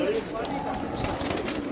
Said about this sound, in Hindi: ए वेखो जी टैडी कबूतर जी ए जी टैडी कबूतर है